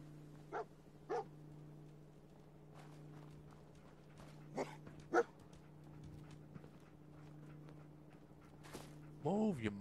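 Dogmeat, the dog companion in Fallout 4, lets out a few short, sharp barks and yips spaced across the stretch, with a louder burst at the end over steady game ambience and a low hum.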